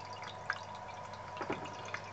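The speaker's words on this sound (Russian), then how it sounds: "Тихая, да, водичка журчит и журчит." Water trickles from a small tabletop fountain, a faint close babble broken by a few soft drips.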